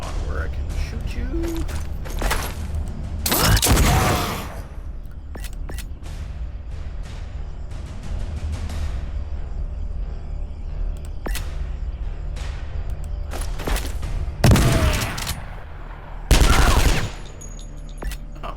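Gunfire bursts in the turn-based video game Skyshine's Bedlam, a few loud blasts standing out over continuous game music and effects while a player talks throughout.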